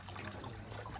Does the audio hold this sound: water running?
yes